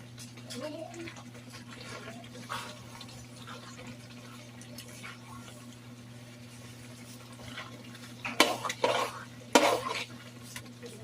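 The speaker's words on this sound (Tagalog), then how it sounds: "I-mix nyo maigi yung ilalim, guys." Pork menudo being stirred in a pot with a spoon. Soft scraping and wet stirring sit over a steady hum, with a few louder metal clanks against the pot near the end.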